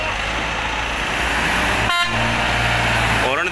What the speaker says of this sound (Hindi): हॉर्न दे दिया ड्राइवर ने।